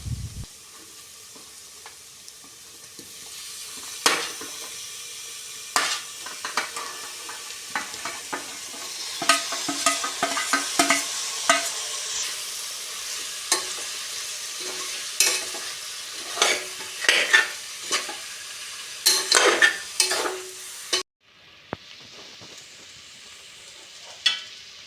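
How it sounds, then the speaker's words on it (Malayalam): Cooked beef stirred into a hot pan for a beef roast, with a steady low sizzle of frying under repeated scraping and clinking spoon strokes, close up, then a short quieter hiss at the end. "വേവിച്ച് മാറ്റിവെച്ച ബീഫ് ഇതിലേക്ക് ചേർത്ത് ഇളക്കുക."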